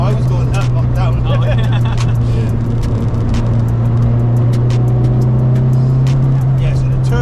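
Turbocharged Toyota Starlet Glanza with a big 307 bhp turbo, its engine droning steadily and loudly from inside the car, while people talk over it throughout.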